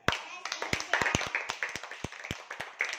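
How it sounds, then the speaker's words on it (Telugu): Children in a classroom clap with their hands in quick, uneven bursts of sharp claps close by, and a voice speaks amid the clapping. "వాళ్ళకి క్లాప్స్ ఇద్దామా నాన్న?"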